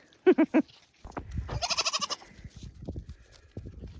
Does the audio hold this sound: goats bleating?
yes